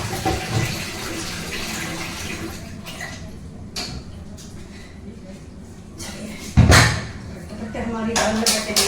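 Saag greens being washed in water: continuous splashing and running water with sloshing bursts, loudest near the end, while someone talks over it.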